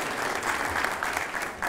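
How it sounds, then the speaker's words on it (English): An audience at an international conference on governance, ethics and development gives the Korean media journalists a short burst of applause, a dense, even patter of many hands clapping throughout. "Let's give them a round of applause."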